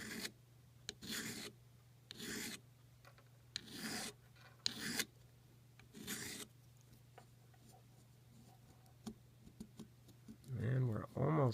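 Hand file rasping on the tip of a wooden spinning top, rounding off a sharp edge in short repeated strokes of about a second each, close and fairly quiet, with a steady low hum underneath and a brief voice near the end.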